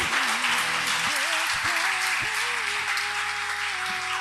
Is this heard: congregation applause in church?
yes